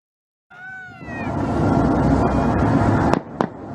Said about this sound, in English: First, some warning shots.